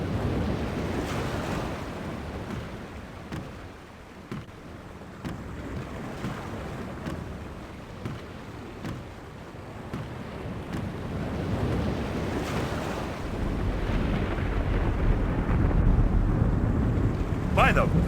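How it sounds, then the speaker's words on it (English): A storm at sea in The Longest Journey video game, with a steady roar of wind and crashing waves that swells louder toward the end, with no clear thunderclap. "The storm is closing in."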